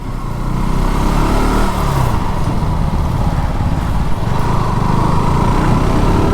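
Two police vehicles drive together along a road, heard as a loud, continuous engine rumble close by that stays steady throughout with no voices.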